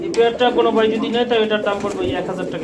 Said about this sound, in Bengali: কালারিং গুল্লা কবুতর জোড়াটা যাদের ভালো লাগবে